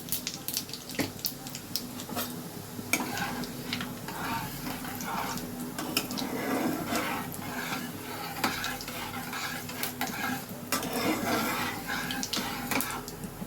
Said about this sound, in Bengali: দেখো তেলটা আমার গরম হয়ে গেছে। এবার এই চামচে ভর্তি করে 1 চামচ আমি গোটা জিরে, সাদা জিরে দিয়ে দিলাম।